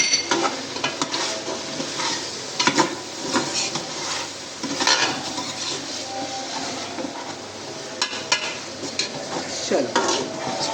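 Dry spices being mixed into pumpkin in a pot for a dhaba-style chana dal dish, with continuous scraping and clattering of a spoon against the metal pot over a faint sizzle, close and fairly loud.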